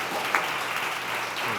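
A studio audience applauds during a health discussion, producing a dense, continuous wash of clapping that stays at an even level for the whole short stretch, with no voices over it.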